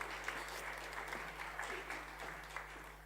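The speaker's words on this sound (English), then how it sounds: "Plenty of applause, Professor." Audience applause for Professor Strugano at a SCAR award ceremony for the Medal for Education and Communication, a steady wash of clapping from a seated crowd, fairly faint and even, with a low electrical hum underneath.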